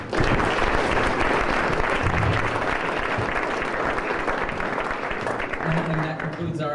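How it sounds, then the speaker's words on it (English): Audience applause at a Boston energy investor feedback forum, steady and fairly full for several seconds, fading slightly near the end as a voice begins. "So round of applause for Erik."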